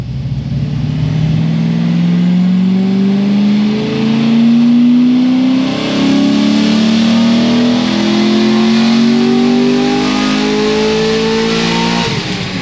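Chevrolet LS7 naturally aspirated V8 on a dyno, revving in a steady pull with a rising engine tone that climbs for about twelve seconds before cutting off abruptly, loud and close with no talking.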